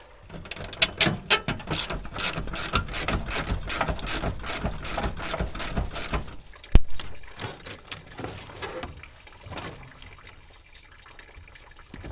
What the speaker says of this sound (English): we'll go ahead and take these 2 bolts out right here and disconnect the upper radiator hose